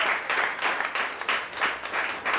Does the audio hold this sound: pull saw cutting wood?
no